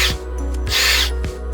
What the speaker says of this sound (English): take your unibit, connect it to your drill, drill 2 holes